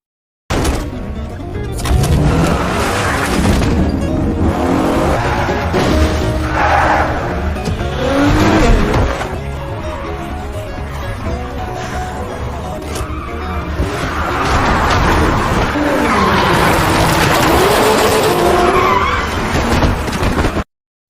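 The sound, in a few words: car arriving and drifting, from a film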